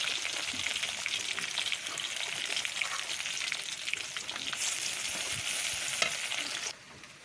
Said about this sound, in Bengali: এখন দিয়ে দিচ্ছি ফোড়নে গোটা গরম মশলা।